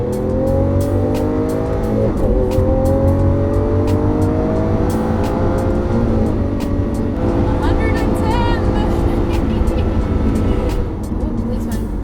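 A Lamborghini on a New England road drops a gear and accelerates hard. The engine note climbs in loud rising sweeps, with a brief shift break around two seconds and another near six, then keeps pulling.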